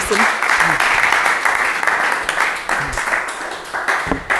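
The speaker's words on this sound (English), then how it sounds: "give a big applause for Delfina as well" An audience at a regenerative city summit held at United Nations University gives a speaker a steady round of applause, dense clapping with scattered louder claps filling the whole stretch.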